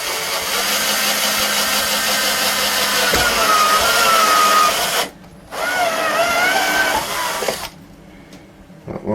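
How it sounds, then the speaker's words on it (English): A power drill whines steadily while drilling out holes in a mixing console's monitor input panel, stopping briefly, then running again before winding down, close and loud. "I'll drill them out."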